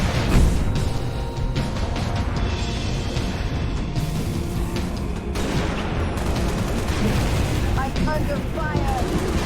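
Gunfire in the Halo: Reach video game at ONI Sword Base: dense, continuous bursts of shots and booms in a loud, busy battle mix, with voices talking over it.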